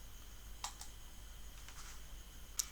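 A computer mouse clicks on a download link for the Recuva file-recovery tool: a few faint, sharp clicks, two close together and one later, in a quiet room.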